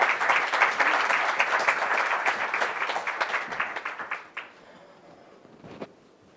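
A lecture audience applauds to welcome the speaker Svetlana, dense steady clapping from a crowd that fades and stops after about four seconds, leaving a quiet room.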